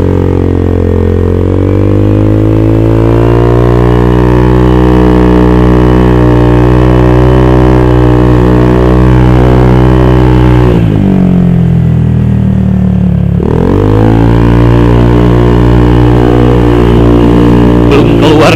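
Honda Vario 150 motorcycle with a Juken 5+ ECU tuned for backfire, idling loud and close then revving up with a steady rising drone, cutting off briefly mid-clip before climbing again.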